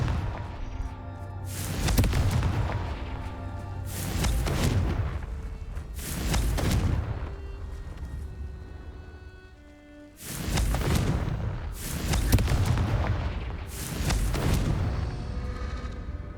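Repeated spell explosions from Confringo fire casts in Hogwarts Legacy, heavy booming blasts landing roughly every two seconds in bursts, loud and close with rumbling tails between hits.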